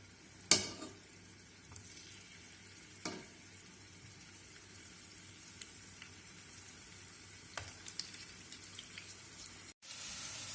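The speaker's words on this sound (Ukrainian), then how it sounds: "У мене картопелька підсмажується зі всіх сторін, я її перевертаю. І вона потихеньку смажиться." Boiled potatoes fry gently in a pan as they are turned on all sides, a steady low sizzle broken by a few sharp clinks and scrapes of turning.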